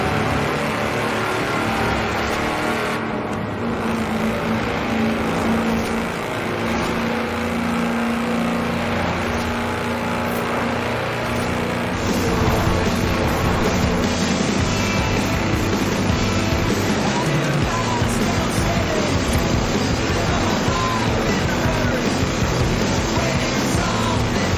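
A tractor driving fast in Forza Horizon 4, clocked at 87.2 mph as the world's fastest tractor: a steady, loud engine drone with continuous road rumble, climbing slightly in intensity about halfway through and holding at speed.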